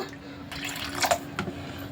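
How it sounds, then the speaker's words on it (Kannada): A brief, low trickle of water being poured into instant rava dosa batter, with a couple of small splashy drips, fairly faint against a quiet room hum. "ಇವಾಗ ನೀರು ಹಾಕ್ತಾಯಿದ್ದೀನಿ ನೋಡಿ"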